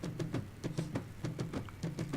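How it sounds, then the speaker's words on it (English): Low drums in a music track playing a rhythm like tabla, a quick run of repeated soft hits with an even, rolling pulse, fairly faint and without voices. "Kind of actually low drums that play a rhythm very similar to the tablas"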